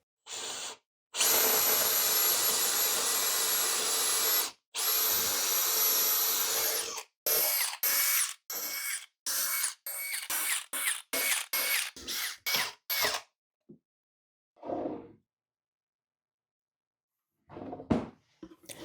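A power drill bores angled screw holes through a pocket-hole jig while building a desk, opening with long sustained whirring runs and ending in a series of short, sharp bursts with gaps between them, loud and close, with no talking.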